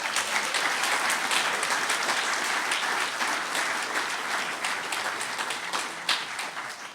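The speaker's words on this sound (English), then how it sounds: "All right, let's give Mike another round of applause." Sustained audience applause fills the room at an Alcoholics Anonymous meeting after a speaker finishes, dense and steady for the whole stretch and easing slightly toward the end.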